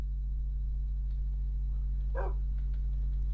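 A single faint bark from a dog in Minecraft sounds once over a steady low hum, with a few quiet game clicks around it.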